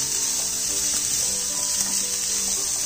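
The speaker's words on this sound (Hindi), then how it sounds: "गाजर, शिमला मिर्च और बीन्स डाल देंगे। इसको हम 1 से 2 मिनट के लिए अच्छे से पकाएंगे।" Carrots, capsicum and beans stir-fry in a hot pan for veg fried rice, giving a continuous bright sizzling hiss with no pauses.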